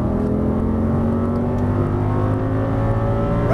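An Audi R8 at full throttle on a racetrack in Las Vegas, the engine roaring loud and steady with a rising, sustained tone, close and continuous throughout.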